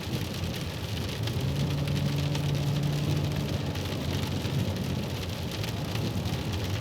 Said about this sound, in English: As you can tell, and I'm sure you can hear, it's raining.